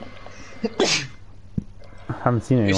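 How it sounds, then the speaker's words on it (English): A single sharp sneeze bursts out near the start during a Call of Duty Warzone match, set among casual close-miked chatter from players talking before and after it. "Me, I sneezed."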